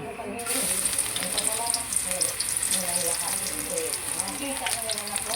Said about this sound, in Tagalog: Mainit na, kaya gisahin na natin yung bawang.